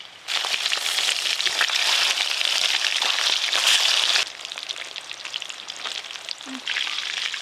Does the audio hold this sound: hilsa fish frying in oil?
yes